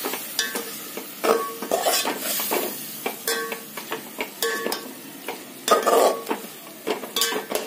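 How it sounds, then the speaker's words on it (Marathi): Yogurt is stirred into chicken biryani gravy in a pot, making rhythmic wet scrapes and clinks of a spoon against metal over a soft sizzle, close and with no speech. "दही घालून घेणार आहोत. मिक्स करून घेणार आहोत."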